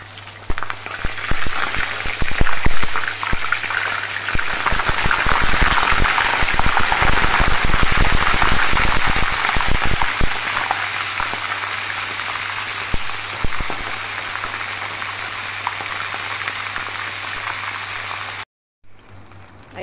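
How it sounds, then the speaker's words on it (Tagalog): Fish fries in a pan with a loud, continuous sizzle and crackle that holds steady for many seconds, then cuts off abruptly near the end. "Prito tayo ng isda"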